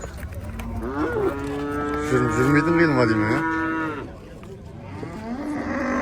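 Cattle at a livestock bazaar give a long, loud, drawn-out moo close by, with a second lower call rising at the end, while someone speaks briefly over the market bustle.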